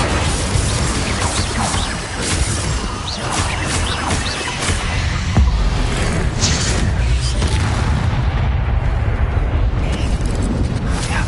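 Confringo spell blasts erupt during a Harry Potter video game battle on PS4, a dense continuous barrage of booms, crashes and crackling debris, loud and close throughout, with no talking.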